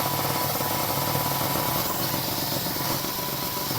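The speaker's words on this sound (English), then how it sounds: "it's really not a loud running compressor at all" A Daystate Super Leggero 110V 4500 psi air compressor runs steadily nearby, giving off a continuous, even mechanical drone with a rattling, engine-like hum and no voices.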